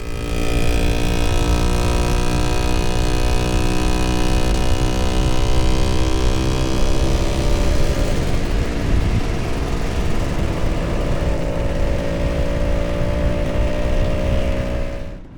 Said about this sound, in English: On the way, an exhaust manifold broke and gave the Lambretta a more sportier sound.